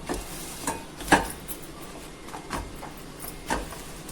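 Urad dal papad roasting in a pan, heard as a series of short dry crackles and light scraping taps spread irregularly across the moment, fairly close, with no talk.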